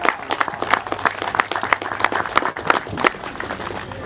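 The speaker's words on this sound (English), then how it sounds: "Give these guys another big round of applause." Crowd at a catfish tournament weigh-in gives a team a big round of applause, loud dense clapping with sharp individual claps throughout, no voices over it.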